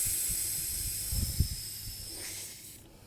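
Air compressor hissing as it pushes air into an ATV tire through the valve stem: a steady airy hiss with a few low thumps of handling partway through, fading near the end.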